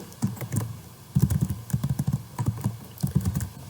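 Steady, brisk typing on a computer keyboard with a US or Mexican layout, the keystrokes coming in irregular bursts and short pauses, close up and with no one speaking.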